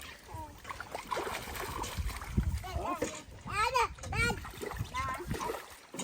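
Children splash in outdoor water, with bursts of splashing mixed with kids' voices and adult talk nearby, fairly close and continuous throughout.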